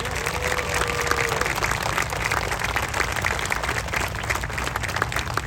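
Sustained applause from an audience at a bridge dedication ceremony, a dense and steady wash of clapping from a crowd that carries on evenly for several seconds.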